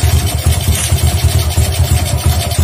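A standard motorcycle fitted with a high-compression racing camshaft idles close by, its engine pulsing in a steady, slightly uneven rapid beat with a rough, lumpy tone throughout.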